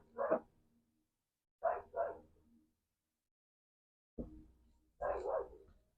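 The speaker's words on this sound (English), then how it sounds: "That is Shelby Ann downstairs barking." A dog barks from downstairs in a house, coming in four short, muffled bursts spaced over several seconds, some as quick double barks, fairly faint and distant with quiet gaps between them.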